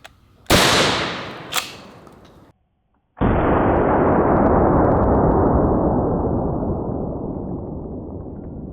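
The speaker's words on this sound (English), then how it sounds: "next up, we have a tomahawk, just regular old 12 gauge hollow point home defense slug" Two sharp, loud blasts from a 12 gauge hollow point home defense shotgun slug being fired outdoors, each trailing a short echo, then after a brief gap a long, loud rushing noise that slowly fades.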